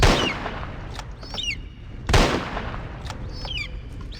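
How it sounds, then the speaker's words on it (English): Two sharp gunshots about two seconds apart ring out in a Jurassic Park hunting game. Each crack is loud and close and trails off into a brief echo, with bird-like chirps faintly behind. "Couple shots."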